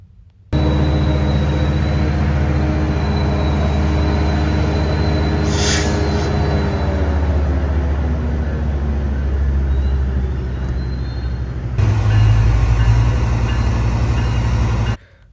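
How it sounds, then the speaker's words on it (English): A Metrolink commuter train pulls into Fullerton Station, a loud sustained rumble with metallic wheel squeal and gliding tones as it slows, then a brief louder surge before cutting off. "But yeah, Metrolink arrived at the time."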